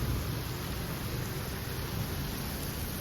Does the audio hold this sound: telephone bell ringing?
no